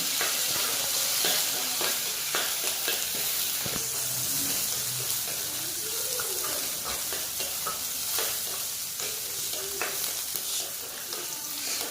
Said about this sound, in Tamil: கொஞ்சம் கருவேப்பிலை பச்சை மிளகு கொஞ்சம் இஞ்சி எல்லாம் சேர்த்து நல்லா வதக்கிக்கலாம்